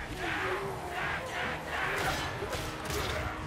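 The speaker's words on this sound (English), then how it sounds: "His army may be cheering around him" An army roars and cheers in battle in Total War: Warhammer 3, with rising and falling crowd shouts and battle cries that swell in waves, mixed with thuds and clashes throughout.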